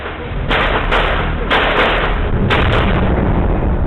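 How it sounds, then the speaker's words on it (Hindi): Several loud, sharp gunshots crack over a constant rumbling background during the 2008 Mumbai terrorist attack, coming in irregular bursts close by. "हमें फिर से आवाज सुनाई दी गन फायर की।"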